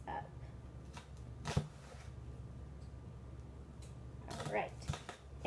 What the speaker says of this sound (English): I'm just going to get those diced